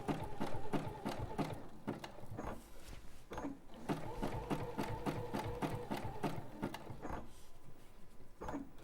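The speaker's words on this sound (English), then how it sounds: "you're sewing it, you're appliquing it and quilting it at the same time." A sewing machine runs steadily, stitching appliqué and quilting together, with a rapid rhythmic mechanical needle clatter and hum in close continuous runs, briefly slowing and restarting.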